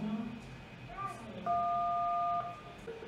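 A child presses keys on a mother's telephone, producing a few short keypad tones followed by a long steady dial tone, clear and close over faint room noise.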